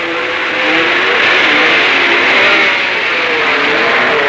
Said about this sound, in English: Ken Blakemore comes out to start the sports car race.